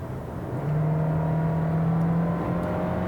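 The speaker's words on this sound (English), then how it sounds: "the engine itself also sounds pretty good. Good responses." A 2019 Volkswagen Jetta SEL Premium engine hums and then rises into a steady, low growl as it accelerates, heard from inside or close by, with no talking.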